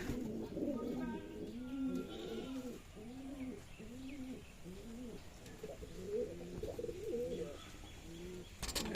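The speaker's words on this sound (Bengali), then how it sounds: "দেখেন খপে সব কবুতর বসে আছে ডিম বাচ্চা নিয়ে" Pigeons nesting with eggs and chicks in a loft coo in a steady, repeating rhythm close by, soft throaty calls following one after another in an enclosed space.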